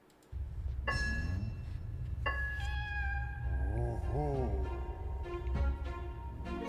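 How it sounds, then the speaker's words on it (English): A cat character's meows sound through a Nintendo Switch game trailer, a few drawn-out, tonal cries over a steady backing score, with a sharp onset near the start. "it's a cat protagonist."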